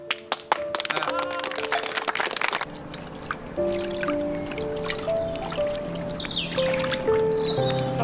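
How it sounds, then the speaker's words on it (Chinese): A group at a rural village gathering gives a brief burst of scattered hand clapping, close and lively, which fades after a couple of seconds into soft melodic tones. "鼓掌。"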